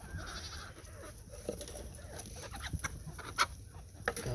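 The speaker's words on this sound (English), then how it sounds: "Let's see if we can find this other little chicken still over here." Chickens cluck and squawk on a small farm homestead while being chased, scattered short clucks and rustling at a moderate distance over a steady outdoor hiss, with a louder squawk near the end.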